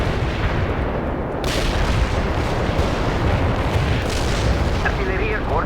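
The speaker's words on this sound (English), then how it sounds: "Launching the barrage" An artillery barrage pounds steadily in World in Conflict, overlapping heavy booms and gunfire rumbling continuously at high level, with faint radio chatter underneath.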